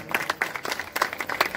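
An audience at a Holi devotional music evening applauds a singer, scattered individual claps in irregular bursts rather than a dense roar, fairly quiet and short.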